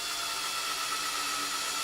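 Drill piloting holes with a 2.5mm bit in a door, a steady high-pitched whir that runs continuously and close for the full moment without pauses or talking.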